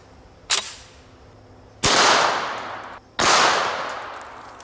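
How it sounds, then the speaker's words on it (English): A chrome Auto Ordnance Tommy gun firing at an atlas stone outdoors, with three loud separate shots, each followed by a long echoing decay. "This is my chrome Tommy gun made by Auto Ordnance"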